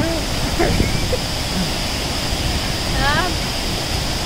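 Steady broadband rush of a waterfall fills the whole scene at an even, loud level, with a voice speaking briefly over it near the start.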